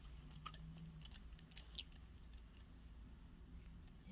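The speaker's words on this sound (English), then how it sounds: "you cut the face out with some scissors" Scissors snip through material to cut out the face of a homemade Sonic costume, a run of faint, sharp, closely spaced clicks at irregular intervals in a quiet room.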